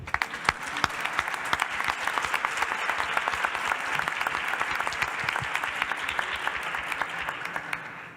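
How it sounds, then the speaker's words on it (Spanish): An audience claps warmly to welcome a speaker at a youth parliament session, a dense, sustained round of applause that carries on evenly throughout. "Recibimos con un cálido aplauso"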